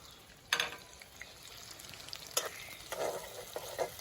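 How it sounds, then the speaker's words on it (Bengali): Chopped onions go into hot oil with two dried chillies, giving sharp sizzling bursts followed by steady close frying crackle, with no voices. "যে পেঁয়াজগুলো কেটে রেখেছিলাম সেই পেঁয়াজগুলো কিন্তু আমি দিয়ে দিই।"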